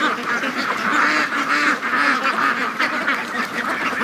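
A flock of juvenile free-range ducks quacks at a watering station, a dense, continuous chorus of overlapping raspy quacks, close and loud, with no talking.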